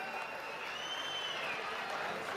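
A crowd at the trailer launch event for the film 45 applauds the film team, a steady, even wash of clapping heard from a distance with voices mixed in.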